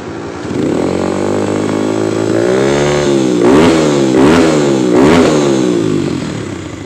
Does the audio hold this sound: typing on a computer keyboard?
no